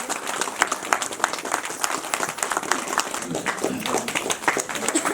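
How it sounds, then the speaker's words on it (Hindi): Applause from an audience at the closing rites of a Maa Chandika religious ceremony in Uttarakhand, steady dense clapping filling the whole stretch at close range. "जोरदार तालियों से उनका स्वागत करें।"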